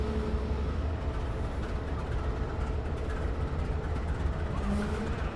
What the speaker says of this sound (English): These Amtrak diesel locomotives will be running for nearly 48 hours without stopping.